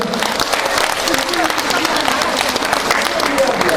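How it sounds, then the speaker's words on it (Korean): Audience applause for a couple at a women's event in Taean, a dense steady clatter of many hands filling the whole stretch, with voices mixed in under the clapping. "우리 두 부부에게 박수 한 번만 해주세요"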